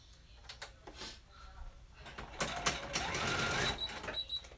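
A sewing machine runs in short stitching bursts, starting and stopping a few times before a longer, louder run near the end, with quiet speech-like sounds between.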